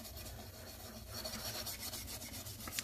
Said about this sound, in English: you can take a little bit of steel wool